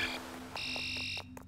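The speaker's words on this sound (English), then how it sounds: "I don't like the fire alarm sounds" A fire alarm in the Roblox game Judy gives off high, steady electronic buzzing tones in bursts over a low hum, faint and cutting off near the end.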